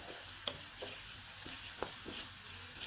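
Onions frying until brown in a pan, a soft, even sizzle with several light spatula knocks and stirs scattered through, faint and close with no talking.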